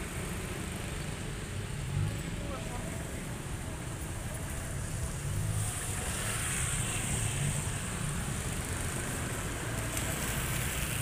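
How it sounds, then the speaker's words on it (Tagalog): Steady, broadband patter of rain falling on surfaces, continuous and moderately loud, with a faint hiss and low background rumble. "Umuulan din pala dito."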